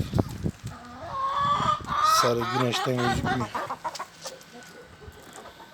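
Native-breed chickens cluck and a rooster calls nearby in a lively burst, while a person speaks briefly in Turkish at the start.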